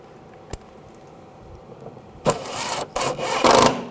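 A power driver snugs down screws on the washer reservoir filler neck of a 2007-2013 BMW 328i, with a few whirring bursts near the end after a single click and quiet before.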